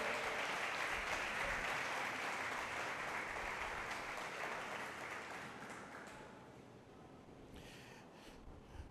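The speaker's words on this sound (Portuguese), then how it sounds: "Então dê um aplauso ao Senhor Jesus." A church congregation gives thanks with applause that is dense and steady at first, then thins and fades toward the end, heard at a moderate distance.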